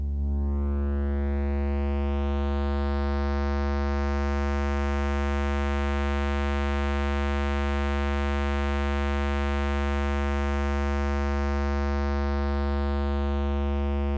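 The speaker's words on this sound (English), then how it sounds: "So we have a sine wave." A steady sine-wave tone from a Doepfer A-100 modular synthesizer holds for the whole stretch, a constant drone with a strong low fundamental and a faint stack of overtones, unbroken and unchanging in loudness.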